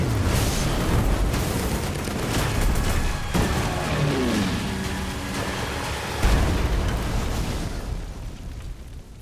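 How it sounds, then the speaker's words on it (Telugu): Deep, rumbling bomb blasts and bursts of explosions roll through a dense, loud film battle soundscape, with debris-like crackle trailing after each blast. "వాళ్ళు బాంబులు వేస్తున్నారు."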